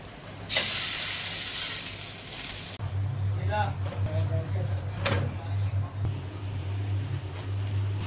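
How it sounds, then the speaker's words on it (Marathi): A chapati roasts in oil on a frying pan for paneer tacos. A loud hissing sizzle fills the first few seconds, then settles into a quieter crackle over a low electric hum, with a few clinks. "त्यावर आपण ही चपाती ठेवून घेऊ आणि दोन्ही साईडने आपल्याला लाल कलर येईपर्यंत भाजून घ्यायची"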